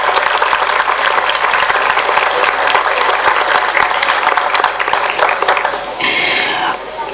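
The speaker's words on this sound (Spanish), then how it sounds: "Un aplausito para Sonia." A farewell audience at an agricultural school center applauds for a departing longtime staff member, a dense, loud, sustained wash of many hands clapping that thins slightly near the end.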